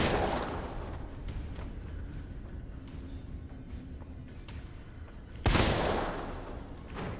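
Gunfire in the Resident Evil 3 Remake lab area, a dense rumbling volley of shots throughout, ending with a sharper, louder blast near the close.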